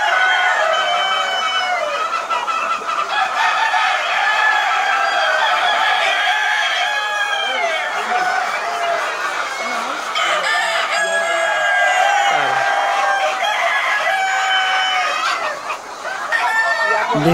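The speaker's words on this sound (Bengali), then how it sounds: "দেখুন কিভাবে সোনালী মুরগি ডিম পারে।" Sonali golden chickens on a farm, with a continuous chorus of hens clucking and roosters crowing, loud and close throughout with no talking.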